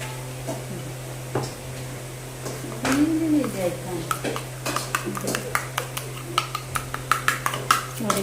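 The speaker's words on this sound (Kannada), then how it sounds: "ಇದಕ್ಕೆ ನಾವು ಸ್ವಲ್ಪ ತೆಂಗಿನ ಎಣ್ಣೆ ಹಾಕಿ ಮಿಕ್ಸ್ ಮಾಡುವ" Coconut oil being mixed into a homemade chili hair dye in a bowl: a spoon clinks and taps against the bowl, irregular at first and then in a quickening series of light knocks, over a low steady hum with a faint voice in the background.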